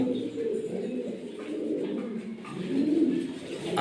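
Farm-kept running pigeons coo in low, rolling, throaty phrases, close and fairly loud, swelling near the end, with no speech over them.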